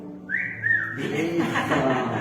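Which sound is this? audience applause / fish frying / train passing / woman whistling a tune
woman whistling a tune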